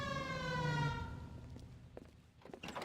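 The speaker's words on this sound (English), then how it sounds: "Hit the sirens." A police car siren wails in the LA Noire video game, a loud rising and falling electronic tone for about a second before dropping away into scattered thumps and noise.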